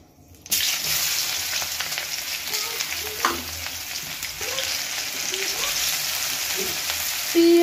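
Onion, garlic and green chilli frying in hot oil, a steady loud sizzle starting abruptly after a brief quiet moment, with occasional stirring clinks and crackles throughout.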